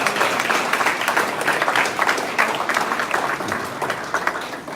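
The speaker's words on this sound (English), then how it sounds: "Give a round of applause." Audience at a Florida gathering applauds steadily and loudly throughout, a dense wash of many hands clapping with no pause.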